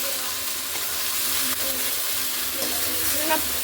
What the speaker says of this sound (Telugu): నేను బెండకాయ ఫ్రై సింపుల్గా చేస్తానండి ఓకేనండి చూడండి వేగుతున్నాయి